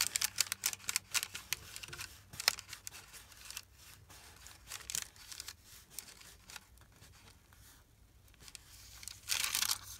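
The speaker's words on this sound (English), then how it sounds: "Noisy paper." Paper handled while making a junk journal, close crinkling and rustling with sharp crisp bursts, busier at the start and swelling again near the end.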